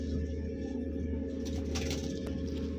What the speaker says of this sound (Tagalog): Pinakain na natin mga kalapatid.